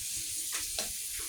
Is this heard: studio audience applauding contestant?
no